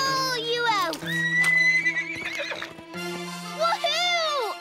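Cartoon horse neighing in a wavering, pitch-sliding whinny, with hoof clip-clops mixed in under a steady tonal music bed; a second whinny rises near the end, loud and close.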